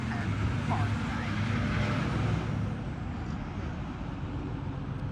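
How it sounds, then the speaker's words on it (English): A truck rumbles past on a road near 365 Whittaker Parkway, a steady low roar of engine and tire noise that holds strong then eases slightly as it moves away. "Wanted that truck to go by."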